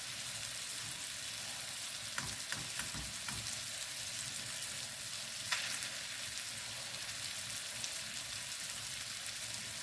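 Shrimp frying in butter and spices, giving a steady soft sizzle throughout with a few faint stirring clicks near the start.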